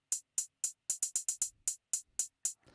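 A crisp, trap-style drum pattern of sharp hi-hat ticks, with uneven spacing and a quick burst of rapid hits in the middle, played alone.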